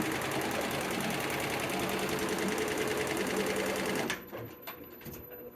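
Happy HCG quilting machine motor running steadily after start, a loud fast mechanical whir with rapid rhythmic stitching chatter that cuts off abruptly, leaving faint clicks and handling noises.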